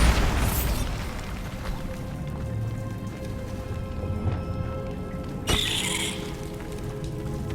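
A spell explosion from the Bombarda charm in the video game Hogwarts Legacy, a booming burst with a sharp crack near the start, then a second blast later amid steady game ambience.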